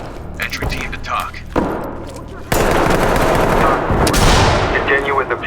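A non-lethal beanbag shotgun fires during a police raid on a gas station in the tactical shooter Ready or Not, with sharp loud blasts and thumps over shouted voices and game ambience.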